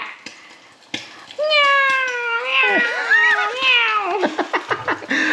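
A voice imitates a cat, drawing out a long wavering meow that slides up and down, loud and close, followed by a few short choppy sounds.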